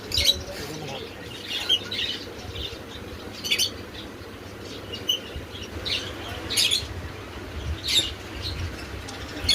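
Pet birds in a bird shop at a market in Comilla chirp in short, scattered tweets over a steady murmur of background noise, moderately close, with voices faintly behind.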